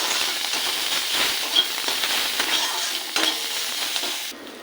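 Onion, ginger and green chilli fry in a pan for a rui posto recipe, a loud continuous sizzling hiss with light stirring scrapes, close up.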